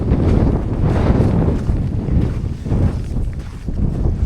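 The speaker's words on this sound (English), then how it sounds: "So the wind is meant to change direction." Strong winter wind buffeting outdoors at a van campsite in a heavy rain storm, loud continuous rumbling gusts battering the microphone with low roar, no voices.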